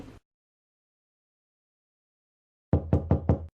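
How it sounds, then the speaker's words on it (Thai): A door is knocked on four times in quick, even succession, crisp and fairly close, after a long stretch of near silence. "เสียงเคาะประตูปลุกให้ร่างอวบรู้สึกตัว"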